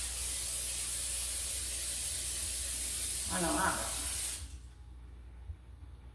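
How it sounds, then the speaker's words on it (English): Pam cooking spray hisses steadily into a cake pan for about four seconds before cutting off, and a voice speaks briefly over the spray near its end. "Just using some Pam spray."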